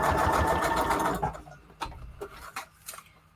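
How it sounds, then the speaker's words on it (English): A sewing machine runs straight stitches down the middle of a paper envelope, a loud steady whirring for about a second, then a few scattered clicks and taps as it stops. "And I'm just sewing straight stitches basically down the"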